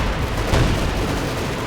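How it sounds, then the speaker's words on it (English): Artillery barrage in the Company of Heroes 2 video game: a dense, continuous wall of rumbling blasts and gunfire, loud and sustained throughout with no pauses, one slightly stronger thump near the middle. "Not sure why calling the artillery on his own officer."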